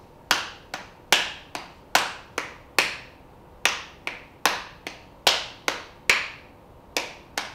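Hands clapping out a song rhythm: a series of sharp, close claps in uneven long-short groupings, solo with no talking.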